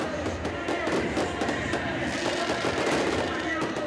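Fireworks at a funk party in a Rio favela, dense rapid crackling bursts in a continuous loud barrage, with crowd noise mixed in.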